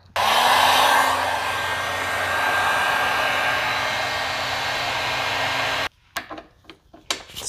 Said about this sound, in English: I'm just gonna heat it up, make sure that it's gonna come off once the Loctite has been dissolved